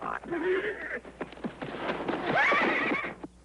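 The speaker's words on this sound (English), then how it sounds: "All right, Dusty, I'm going to show you something about breaking a horse" A horse neighs loudly and close by while being broken, giving a shrill rising whinny over a brief clatter of hooves, with no talking.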